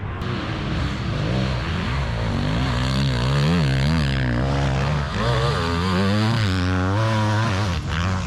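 Loud, continuous high-revving motocross engines drone and rise and fall in pitch, several bikes racing sprints on sand close by with no talk.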